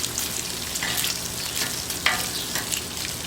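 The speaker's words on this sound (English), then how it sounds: "We're getting some good color on these fried green tomatoes. Working really well. The bacon's cooking up good." Bacon and fried green tomatoes frying in a pan, with a steady close sizzle, occasional scraping and clinking from a utensil, and no talking.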